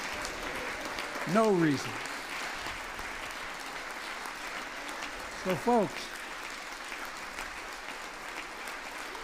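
During President Biden's address to a joint session of Congress, steady applause from the chamber runs through the whole stretch while a voice speaks over it twice.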